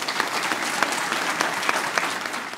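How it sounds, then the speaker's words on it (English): Steady, close applause from an audience at a sports hall of fame ceremony, dense clapping filling the room evenly without a break. "ladies and gentlemen, please give a warm applause to Mr."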